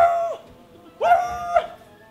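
Dogs at play give out three drawn-out, whining yelps and barks: one at the start, then two more close together after a short pause. The calls are close and fairly loud, with no talking over them.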